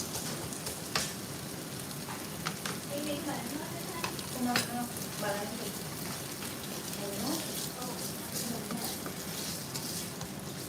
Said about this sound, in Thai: ผัดแล้วนะคะ